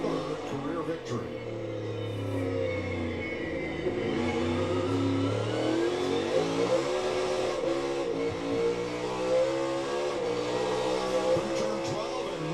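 NASCAR Cup Series race cars roar around the Sonoma road course, a loud sustained engine drone that rises and shifts in pitch as cars pass, under continuous commentary and crowd noise.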